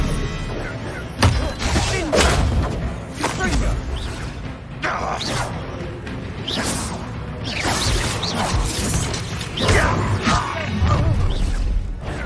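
Disarming spell cast in the Hogwarts Legacy video game: whooshing magical bursts with crashes and thuds amid ongoing combat sounds, loud and busy throughout.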